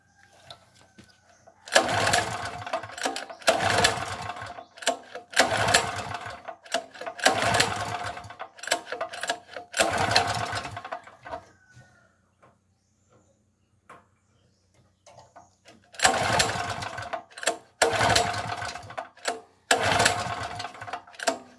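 A Yamada GTX3350E generator being pull-started with the choke closed: a series of short, loud recoil cranking bursts, each a second or so, that fail to catch, with a quiet pause midway before more pulls.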